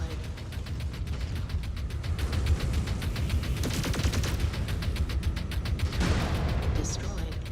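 An anti-missile system in a mech combat video game fires a rapid, continuous stream of evenly spaced rattling shots over constant mechanical rumble, with voices talking over it.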